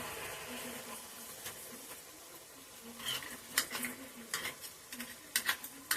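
Turmeric and mustard-poppy paste frying in a pan for a Bengali lau data shukto, a quiet sizzle under repeated scraping stirs that grow more frequent toward the end.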